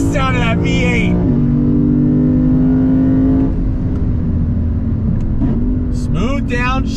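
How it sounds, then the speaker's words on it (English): A 2022 Lexus IS 500 sedan's V8 engine roars continuously near the listener while accelerating, its pitch climbing and dropping through gear changes, with excited voices shouting over it at the start and end. "Love the sound of that V8."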